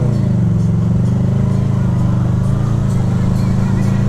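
A Honda VFR motorcycle cruising on the road, its engine droning in a steady, loud hum with heavy wind rush, constant and close, with no clear changes in pace.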